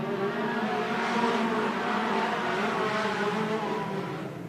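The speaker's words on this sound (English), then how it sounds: "Yeah, they sound pretty good for being stock production motors." Race cars with stock production motors roar around a dirt track during a 20-lap main event, a dense, continuous engine drone with layered revving that fades slightly toward the end.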